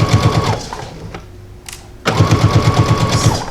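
A domestic sewing machine stitches a garment hem in fast, even rhythmic bursts, loud and close, pausing for about a second before running again, with no talking.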